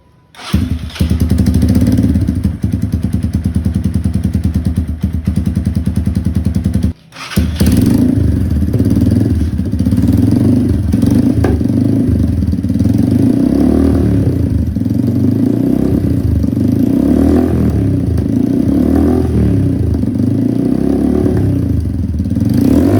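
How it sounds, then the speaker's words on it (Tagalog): A Bullet motorcycle engine with no silencer fitted runs loud and close, a hard, rapid thumping exhaust that cuts out briefly near the start, then picks back up and pulses steadily through repeated revs. "Ito yung tunog na kapag walang silencer"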